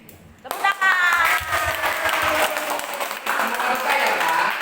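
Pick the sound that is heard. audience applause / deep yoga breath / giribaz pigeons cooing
audience applause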